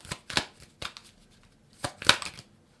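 Tarot cards being shuffled by hand in a quick reading, several short crisp riffling bursts separated by brief pauses, close and fairly quiet.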